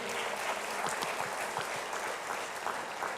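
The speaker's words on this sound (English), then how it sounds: "Let's hear a round of applause for them." An audience at a town hall meeting in St Joseph applauds, a dense, even wash of many hands clapping throughout at moderate distance.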